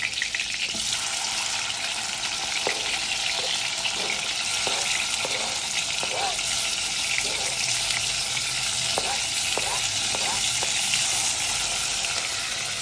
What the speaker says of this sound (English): After it's hot, I first add my garlic.